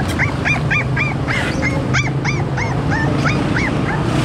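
Several dogs at a pet market whimper and yip in a steady run of high, rising whines with a few sharp barks, loud and close over a constant crowd murmur.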